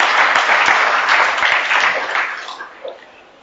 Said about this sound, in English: Let's applaud them, ladies and gentlemen.